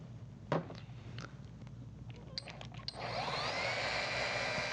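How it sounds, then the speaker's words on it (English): A machine sander wet sanding car clear coat gives a steady, faint whirring hum that starts partway through, after a few soft taps and rustles. "So I'm going to sand just a little bit more."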